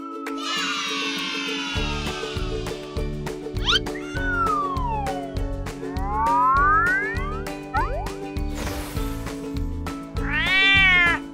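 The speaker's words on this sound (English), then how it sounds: "Cat." A cat meows several times in drawn-out, rising and falling calls, loud and close, over steady background music in a farm-animal learning sequence.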